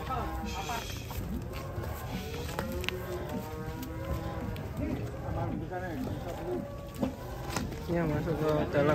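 Cattle moo repeatedly as a cow is loaded onto a truck, several drawn-out calls over shuffling and background noise, with people talking throughout.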